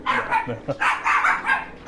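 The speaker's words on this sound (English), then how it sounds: "Dog's getting excited." An excited dog barks in a rapid run of sharp, loud yips close by, with faint human voices mixed in underneath.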